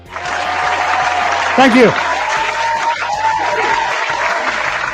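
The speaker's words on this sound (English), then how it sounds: "Thank you very much, fake studio audience, for that spontaneous round of applause" Canned studio-audience applause swells as a dense steady roar of clapping for the full length, loud and close, with a host's voice speaking briefly over it near the middle.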